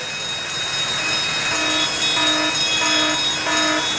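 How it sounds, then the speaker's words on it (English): A fire alarm going off in a kitchen during cooking, a loud, shrill, steady electronic tone with a repeating beep pattern pulsing on top of it, nearby and without speech. "And sometimes the fire alarm goes off."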